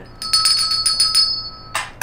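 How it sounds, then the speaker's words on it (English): A bright bell rings out in a cafe during a live show, several quick clear strikes with a sustained metallic tone, then a last louder ding, close and without talk. "Oh, ring your bell."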